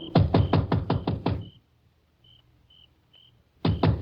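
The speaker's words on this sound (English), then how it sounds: "I knocked." Knocks on a house door in an old radio drama, two quick rounds of six or seven sharp raps separated by a quiet pause with faint crickets.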